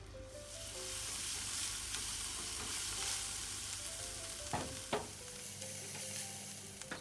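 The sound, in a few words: sautéing garlic and shallots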